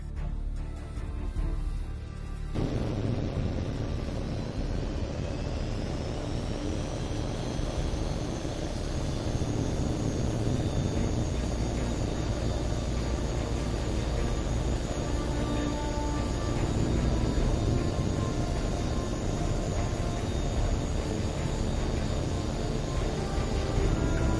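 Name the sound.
jet aircraft taking off in video game H.A.W.X 2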